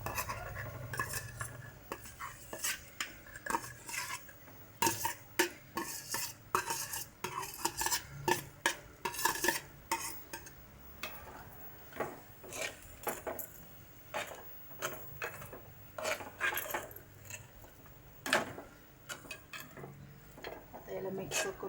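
Eggs stirred in a pan for Marathi-style egg bhurji, with a long run of close metal spoon scrapes and clinks against the pan over a soft sizzle, in irregular bursts.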